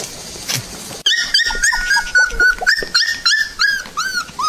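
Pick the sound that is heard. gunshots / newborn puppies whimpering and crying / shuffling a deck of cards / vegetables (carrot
newborn puppies whimpering and crying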